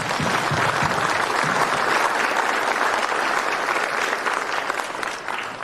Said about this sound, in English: First and foremost, I need everybody to clap it up.